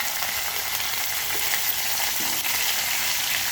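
Green chillies frying in oil for restaurant-style jeera rice, giving a dense, even, close-up sizzle that holds steady throughout with only faint stirring touches.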